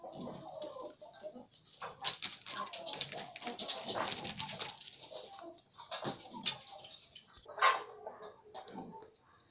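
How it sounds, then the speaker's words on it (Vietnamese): A hungry local domestic pigeon feeds close by, with irregular pecking clicks, scuffling and rustling, and brief coo-like bird sounds scattered throughout. "Con chim này là chim bồ câu ta nha các bạn."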